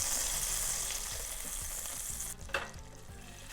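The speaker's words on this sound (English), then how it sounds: "To a high-sided saucepan over medium heat, add 3 tablespoons of butter, that's 42 grams. Melt that butter down." Three tablespoons of butter melting in a high-sided saucepan over medium heat give a steady close-up sizzle and crackle. A brief clink and a thin hiss come near the end.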